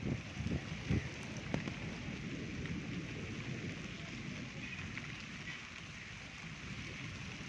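Steady storm rain in a village in Bhakkar district, Punjab, hisses across the whole stretch, a dense wash of drops with a few heavier knocks near the start, no voices.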